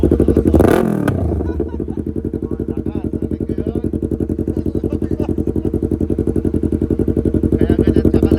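Yamaha MT-03 twin-cylinder motorcycle with an exhaust silencer fitted, engine idling steadily and loud up close after a brief sharp rev at the start, with a throbbing, even pulse throughout.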